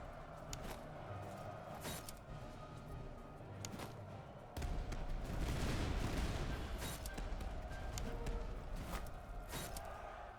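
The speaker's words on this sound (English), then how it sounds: "Let's have all artillery focus fire on them" A video game battle with artillery focusing fire on an enemy battalion gives a steady, faint barrage of distant booms and crackling volleys that swells partway through into a denser, heavier rumble.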